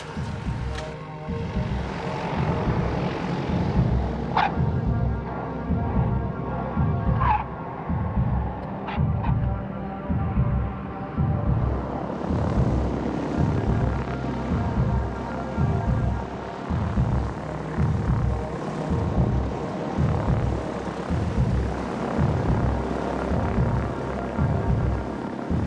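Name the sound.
propeller plane taxiing to a stop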